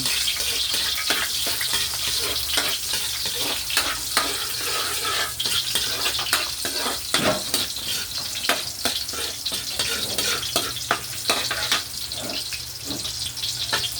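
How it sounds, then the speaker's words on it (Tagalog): Onions sizzle in a hot pan with a dense, continuous frying hiss. A utensil stirs and clatters close by in irregular strokes throughout, and no one speaks. "Tapos sibuyas, halo-haloin natin."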